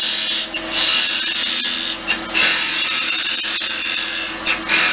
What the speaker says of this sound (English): for hollowing, you can start off with a spindle gouge, just using the edge of the tool.